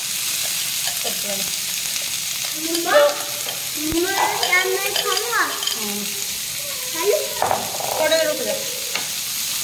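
Bread pizza roasting on a tawa gives a steady sizzle under scattered clinks and scraping of stirring, while a child and an adult talk intermittently over the cooking.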